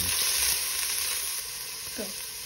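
Garlic and onion sizzle steadily in a hot pan for a pork stir fry, a bright continuous frying hiss that stays loud and close, easing slightly partway through with a faint scrape of stirring.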